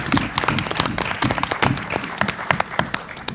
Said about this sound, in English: Let's give both of those groups a round of applause